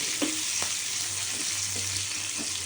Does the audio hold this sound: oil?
yes